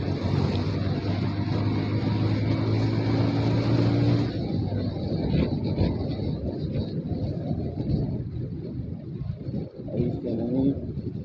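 A Bajaj Pulsar 150 motorcycle without ABS is ridden on the road, its engine droning steadily under heavy wind buffeting that eases partway through.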